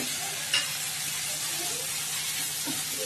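Vegetables sauté in a pan for a mango rice and banana flower thuvaiyal meal, a gentle even sizzle close up with a single sharp utensil tap early on.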